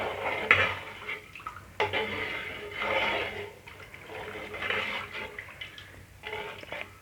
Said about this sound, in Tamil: இந்த சாம்பாருக்கு தேவையான அளவு தண்ணி சேர்த்துப்போம்.